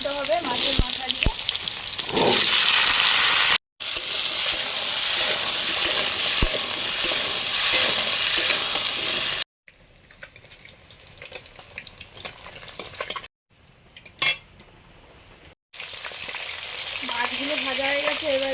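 Fish pieces fry in hot oil in a pan, a loud steady sizzle with crackles and occasional utensil clinks, broken by brief cuts to quieter, softer frying and short silences.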